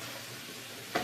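Carrots frying in a pan with a continuous close sizzle, ending in a brief sharp clink of a utensil.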